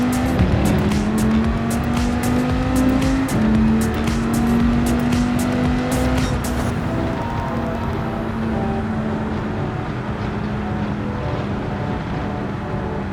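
Race car engine in Gran Turismo 7 at Laguna Seca, loud and close with a steady droning pitch that rises and holds through acceleration, some tire noise early on, fading slightly toward the end.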